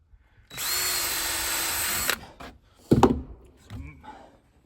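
Power drill driving screws into wooden hand rails: one sustained whine of about a second and a half, close and loud, followed by a few sharp knocks and thunks of wood handling.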